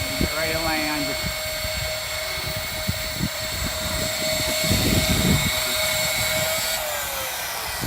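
Whining rotors of a Rotormast RC V-22 model aircraft coming in to land, a loud steady high-pitched motor hum with sharp tonal harmonics, near and continuous outdoors.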